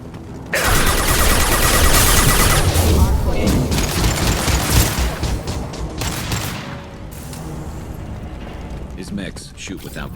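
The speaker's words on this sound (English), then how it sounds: "His mechs shoot without question." Combat mechs open fire in Mass Effect 2, loud sustained gunfire and booming impacts that burst in suddenly and roll on for several seconds, with speech mixed through the noise.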